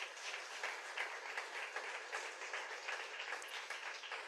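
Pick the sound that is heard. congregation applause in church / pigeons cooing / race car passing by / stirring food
congregation applause in church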